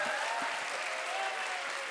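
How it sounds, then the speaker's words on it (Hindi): Dense, steady applause from an audience closing a session at a youth thinkers' conference, a continuous wash of many hands clapping together without a break. "आज के सत्र के लिए एक बार पुनः जोरदार तालियां।"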